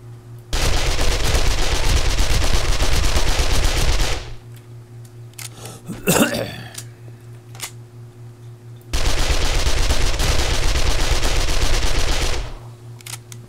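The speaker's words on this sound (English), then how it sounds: "Rick, you're shooting high." Rapid automatic gunfire from the zombie survival game Wasteland Z comes in two long, loud, sustained bursts. A brief scuffle and a low steady hum fill the gap between them.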